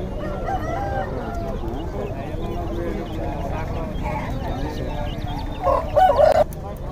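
Native chickens at a village fowl market cluck steadily, and a rooster crows loudly near the end, over a busy crowd with people talking.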